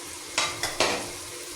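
Chopped green chillies hit hot oil in a pan for an Indian aloo palak gravy, giving three short bursts of sizzling and stirring over a low background hiss, with no talk.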